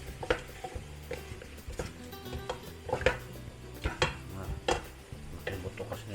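Beef stew with bay leaves stirred in a pot, irregular scraping and knocking of the spoon against the pot over a faint simmering sizzle, fairly quiet and close, with no talk.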